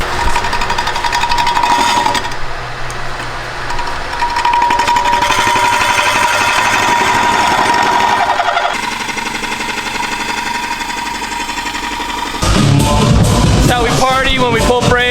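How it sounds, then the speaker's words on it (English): Bridgeport milling machine drilling out a large hole in a metal part in a fabrication shop, a loud steady mechanical grind and whir running almost the whole time with shifts in pitch, and a brief burst of talk near the end. "Being extremely extra with a Bridgeport. Brian's idea, but all we have to do is drill out this big hole"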